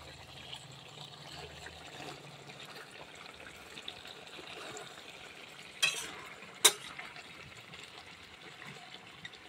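Chicken cooks down in its own juices in a pan, a faint, low simmering sizzle with a soft stir, broken by two sharp clicks or clinks partway through; no one speaks.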